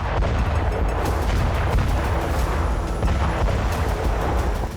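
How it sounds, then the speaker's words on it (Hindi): Heavy FAB-3000 bomb blasts during a Russian attack on Pokrovsk, a dense continuous roar of booming explosions and rumbling detonations, loud and unbroken throughout with no voices. "रूस पोक्रोवस्क पर फैब 3000 बमों से विध्वंसक हमला कर रहा है।"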